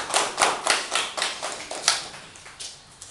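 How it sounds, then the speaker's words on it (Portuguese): A small gathering at a program launch in Homoine claps in a burst of applause, sharp slaps falling in a loose rhythm that fades and thins toward the end. "Uma salva de palmas para você."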